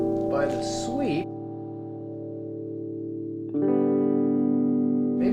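Sustained electric guitar chord through a phaser pedal with a slowly sweeping, swirling tone, a brief pause in volume then a louder restruck chord ringing on.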